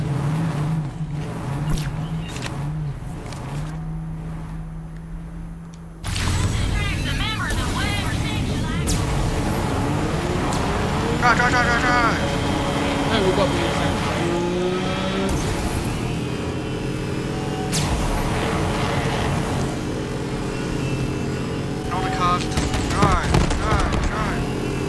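A vehicle in the video game Borderlands 3 drives along with a continuous engine roar and shifting mechanical noise, accompanied by game effects, while voices talk over it throughout.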